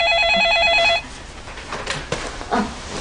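An old-style telephone bell rings loudly for about a second in a rapid trilling burst, then stops, followed by quieter handling noises and small knocks as the receiver is picked up.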